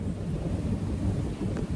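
Thunder rumbling during a sudden downpour of rain, a low, rolling growl held steady for under two seconds with faint rain and wind noise behind it.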